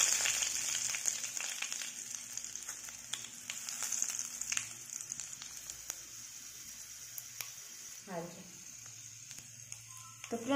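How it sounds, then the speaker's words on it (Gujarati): Curry leaves crackle and sizzle in hot oil while making a gravy-style cluster bean curry, a steady frying hiss with a sharper spurt of spattering near the end, close and moderately loud, no talking. "પછી એમાં આપણે કડી પત્તા નાખીશું."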